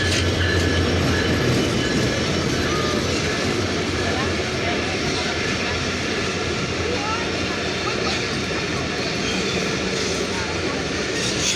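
Barendra Express, the 731 Up intercity from Rajshahi to Chilahati, passing behind American-built short-hood locomotive 6619: a loud, steady broadband rumble of rolling wagons with faint rhythmic rail clatter throughout, no distinct speech.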